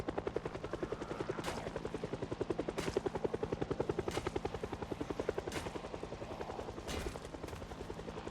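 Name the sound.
helicopter flying in the video game Project Zomboid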